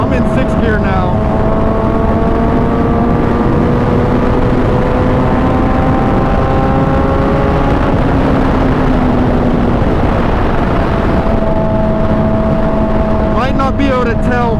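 2011 Suzuki GSX-R 750 motorcycle pulling in sixth gear at quarter throttle, a steady engine drone with rising harmonics under continuous loud wind rush, and a brief shift in tone near the end.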